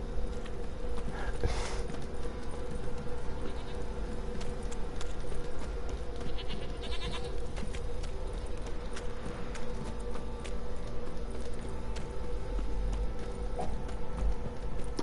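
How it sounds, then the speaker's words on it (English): Steady clip-clop of horse hooves trotting at an even rhythm, fairly faint, with soft game-like ambience and a brief whinny early on, from the video game The Witcher 3: Wild Hunt. "Oh yeah, I can call a horse."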